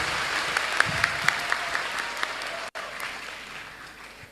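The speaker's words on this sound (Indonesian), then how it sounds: "Wow, tepuk tangan" An audience at a talk on interfaith love applauds in continuous, dense clapping that holds steady, briefly cuts out, then resumes fairly loud and close, with a few sharper individual claps standing out.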